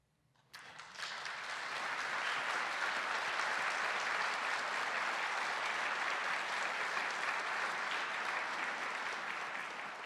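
Sustained applause from a graduation ceremony crowd at a university's School of Education, bursting in suddenly after a quiet moment and then holding as a loud, dense, even wash of clapping, with no talk.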